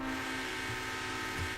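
Steady locomotive horn from a train in the railroad simulation game Railroader, a loud sustained multi-tone blast held throughout with a slight swell near the end and faint rumbling beneath.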